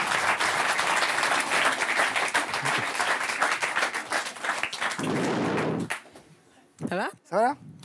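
Audience applause for people just woken from hypnosis on a television show, a loud sustained burst of clapping that cuts off abruptly, followed by brief quiet and a few spoken words.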